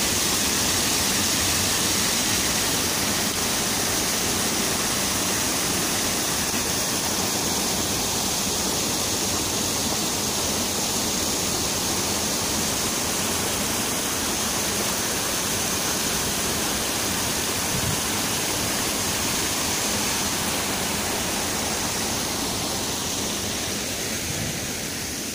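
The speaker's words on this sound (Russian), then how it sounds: "Послушайте шум водички" Water flows loudly and constantly in a city on a mild spring day, a dense, even rushing roar with no pauses and no voices.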